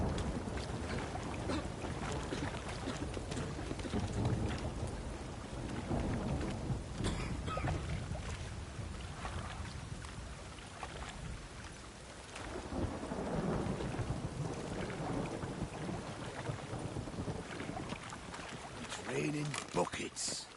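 Heavy rain pours steadily in The Witcher 3, with low rolling thunder rumbling repeatedly underneath and occasional voices speaking over the storm.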